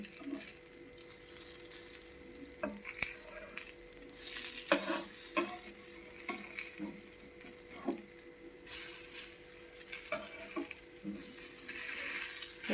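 Potato and onion fry cooking with little oil on a griddle pan, crackling steadily while pieces are turned over with a spatula, giving scattered scraping clicks and taps over the continuous sizzle.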